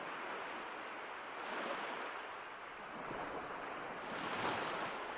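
Ocean waves break and wash steadily with a continuous broadband roar, mixed with gusting wind that swells and eases. The sound is moderately loud and fills the whole span, with no voices.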